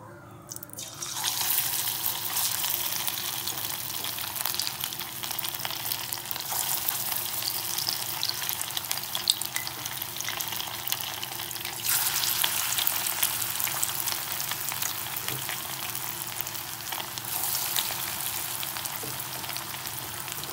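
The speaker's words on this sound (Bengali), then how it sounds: "গ্যাসটা কিন্তু আমি লো ফ্লেমে দিয়ে ভেজে নেব, কারণ হাই করে দিলে জিনিসগুলো পুড়ে যাবে।" Bengali fish chops made from Bombay duck fry in hot oil over a low flame, with a continuous close crackling sizzle that holds steady throughout and swells slightly midway, and no one speaking.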